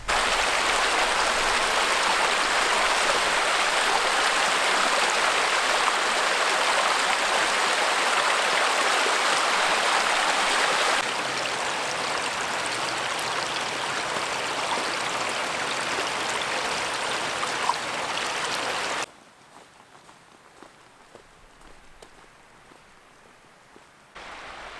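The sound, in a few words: creek water flowing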